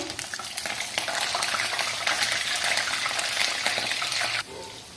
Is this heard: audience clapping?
no